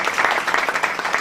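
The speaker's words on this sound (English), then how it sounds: "Could we get a round of applause for our veterans?" Audience applause breaking out at a political talk event, a steady wash of many hands clapping with small swells, loud and close.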